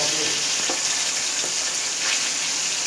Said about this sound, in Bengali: মাছটা একটু ভেজে নিই ভালো লাল করে,